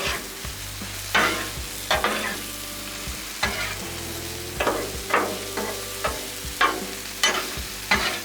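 Steak sizzling on a Blackstone flat-top griddle, a steady close fry hiss broken by repeated sharp bursts of sizzle and scraping spatula strokes, with no talking.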